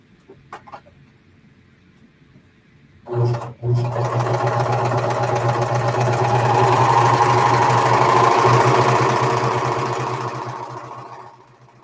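A Pfaff serger overlocker runs along a fabric edge, starting with a couple of bumps and then holding a loud, steady, close mechanical whir for several seconds before easing off slightly, with no talk.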